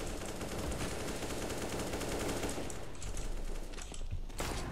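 Rapid automatic gunfire from the video game Counter-Strike rattles on without a break in dense, continuous bursts, loud and close throughout.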